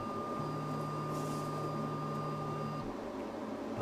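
A DIY CNC machine with a 3D-printed touch plate hums steadily as its stepper motors drive an axis during probing, a sustained whine that runs for a few seconds and then stops; nobody speaks.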